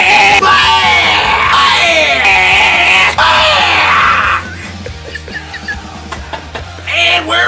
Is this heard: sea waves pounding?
no